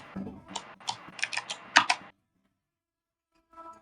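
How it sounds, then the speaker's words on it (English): Rapid clattering keystrokes on a computer keyboard during a live trading session, coming in quick uneven bursts for about two seconds, then silence and a faint flurry of clicks at the end. "Jones, I can hear your keyboard, brother"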